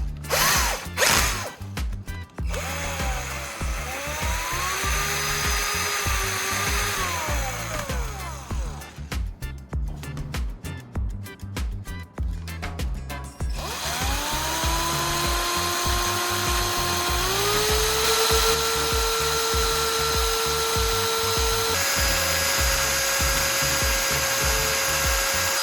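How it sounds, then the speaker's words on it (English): A power drill mixing a mixture, its motor whining steadily with pitch shifts as the speed changes, interrupted midway by a stretch of rattling, ratchet-like stirring, loud and close throughout. "Now, I'll attach it to a drill and start mixing."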